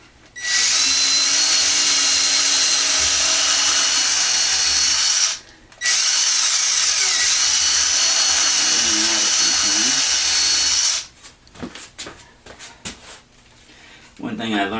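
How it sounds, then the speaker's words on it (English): A power drill bores loudly through wooden model railroad benchwork in two long continuous whining runs separated by a brief pause, followed by clattering handling noises and a short restart at the end. "It would help if I sped up the drill a little bit so we can get through."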